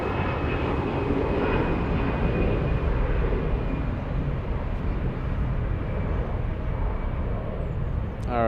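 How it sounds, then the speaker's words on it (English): A Lufthansa Airbus A340-600 taking off down the runway at Frankfurt, a loud, sustained engine roar holding steady across the whole stretch, broad and distant-sounding with no talk over it. "we'll zoom into the A340-600 once I see it race down the runway"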